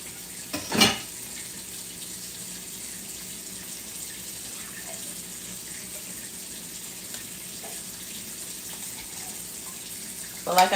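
Tap water running to thin a meatloaf topping during home meal prep: a steady, fairly faint hiss that continues unbroken, with a brief clatter near the start and no talk.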